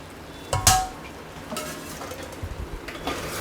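A utensil stirs frozen peas and potatoes through softened onion and tomato in a pan for carrot rice, with a sharp metallic clink near the start, then softer scraping and clattering close by.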